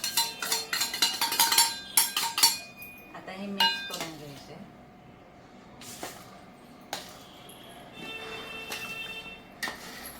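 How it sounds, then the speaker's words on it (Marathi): A spoon mixes flour into hot dalda in a bowl, with semolina and baking soda for shankarpali dough, giving repeated clinks and scrapes against the dish, busiest at the start, then sparser knocks over a low background. "गरम डालडा असल्यामुळे मैदा हळूहळू चमच्याने मिक्स करायचा आहे"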